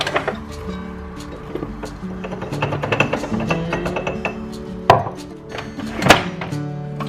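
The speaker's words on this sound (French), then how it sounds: "Donc je mélange." Brioche dough being mixed in a bowl as liquid is added, giving a steady run of soft knocks, scrapes and light clinks close by, with two sharper thumps near the end and a faint tonal hum underneath.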